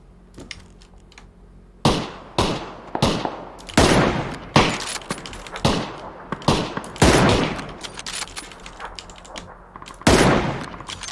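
Gunfire in a shooter video game: a loud, sharp series of about a dozen separate shots, irregularly spaced and each followed by a short decaying tail, starting after a quieter opening.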